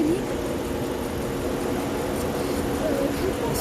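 A 2014 Dodge Durango R/T's 5.7-litre Hemi V8 idles steadily at close range, a low even rumble with a faint whine rising and falling over it, continuous for a few seconds.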